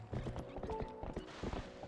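Horse hooves clip-clop in The Legend of Zelda: Twilight Princess HD, a quick, fairly close galloping rhythm of repeated thuds with faint game tones beneath.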